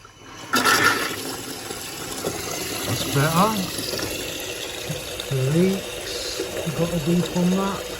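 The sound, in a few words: water running after plumbing water turned back on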